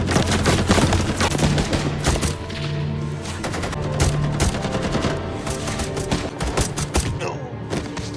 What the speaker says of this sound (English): They trade bullets with a small team of men who manage to keep the two behind cover